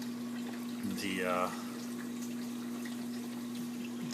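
Reef aquarium pumps drive water movement in a 4-foot tank, giving a steady low mechanical hum beneath a constant broadband wash of moving water. A voice speaks briefly near the start.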